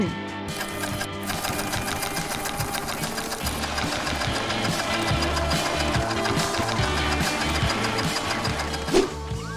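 A sewing machine runs continuously, stitching fabric for a stuffed Mr. Meeseeks doll, with a steady, fast mechanical rattle that is loud and close throughout.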